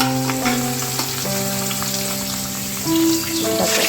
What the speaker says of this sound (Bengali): কড়াইয়ে মাছ দিয়ে দেবো বাবা